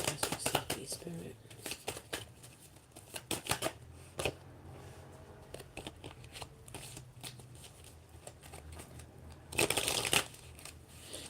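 Tarot cards being shuffled, repeated soft riffling and slapping bursts close by, with a louder flurry near the end, while a voice speaks quietly in between.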